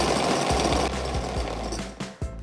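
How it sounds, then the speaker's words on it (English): A toy blender whirs loudly as it mixes blue and pink gumballs, with a continuous motor buzz broken by quick repeated rattles and thumps of the candy. "I'm going to mix them up in the blender."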